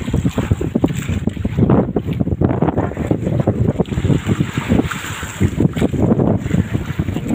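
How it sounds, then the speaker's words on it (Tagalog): Strong wind buffets the microphone aboard a small boat at sea, gusting roar with churning water and rocking hull sounds, loud and continuous throughout. "Ang lakas ng hangin."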